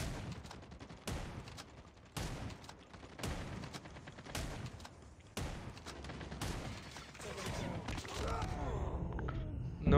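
Sharp bursts of weapon fire from Call of Duty Mobile crack out in repeated volleys roughly a second apart, each loud onset trailing into rattling echoes, ending in a denser jumble of game effects.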